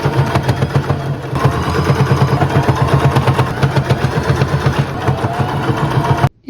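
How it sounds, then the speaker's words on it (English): A sewing machine stitching a reinforcing square and X through a quilted tote bag: a fast, even mechanical whir and rapid needle pulses, running steadily close by before stopping abruptly. "I'm going to sew it in a square and then do an X pattern"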